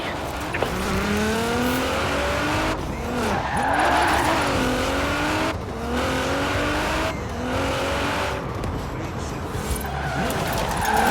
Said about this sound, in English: A bit of speed, turn in, feather the e-brake as you hold the accelerator.